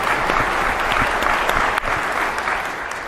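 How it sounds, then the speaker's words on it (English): Steady applause from a seated audience at a talk, a dense wash of many hands clapping continuously at close range, with no voices over it. "give yourselves a round of applause for appearing here now"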